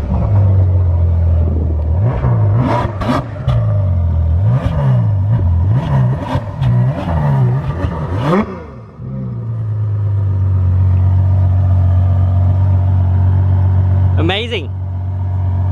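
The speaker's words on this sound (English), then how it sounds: "So guys, this is a Ferrari 812." A Ferrari 812 Superfast on the road, its engine rising and falling through several sharp revving surges before settling into a steady low cruising drone, with voices talking over it inside the car.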